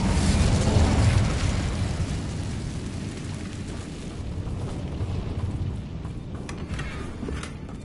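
A fire spell cast in a wizard video game, with a loud whooshing, roaring burst of flame at the start that trails off into a sustained crackling rumble, no talking.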